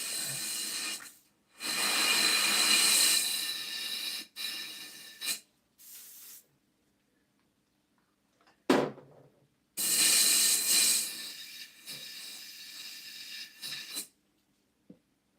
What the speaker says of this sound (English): Clean out the airbrush a little bit.